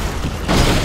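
A car crashes in GTA 5: a short, loud, broadband impact boom bursts in halfway through and then holds as a dense roar of noise.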